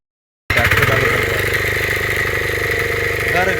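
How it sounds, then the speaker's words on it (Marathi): A tractor engine fires up after silence and settles into a loud, steady running chug with a rhythmic low knock, at a rice-planting field in Konkan. "आता ही ट्रॅक्टर चालू करता होय"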